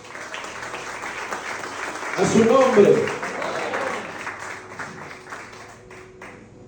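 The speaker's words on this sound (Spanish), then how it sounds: "Dale un aplauso a Jesús." A church congregation claps together in a short swell of applause that rises and fades over a few seconds, while a preacher talks over it.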